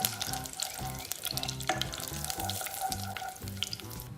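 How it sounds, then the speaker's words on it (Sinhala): Chopped dried chillies fry in hot oil for Malaysian fried rice, giving a steady, close crackling sizzle with soft stirring scrapes throughout, no voices. "තෙල් ටික හොඳින් රත් වුණාට පස්සේ මේකට වියලි මිරිස් කරලා පොඩියට කපලා එකතු කරගන්න"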